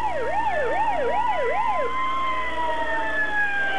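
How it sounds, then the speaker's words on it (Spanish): Emergency sirens clearing the route at an outdoor esplanade ahead of Pope John Paul II's arrival in Piura, 1985, wailing in fast rising and falling sweeps that settle into a long steady tone over a constant crowd and traffic hum. "Son las sirenas que anuncian que se despeje la zona por donde tendrá que ingresar el Santo Padre"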